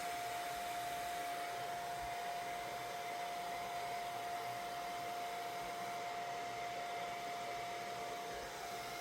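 A blower runs on its low setting, a steady, even whoosh with a constant whine, close and unbroken throughout with no voices.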